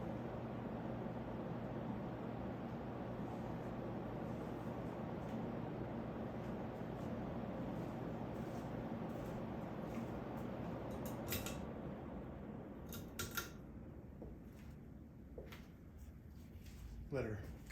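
A 38-inch antique brass Casablanca Four Seasons ceiling fan with small blades runs fast with a steady whirring hum, then coasts down while faint clicks and ticks come through near the end.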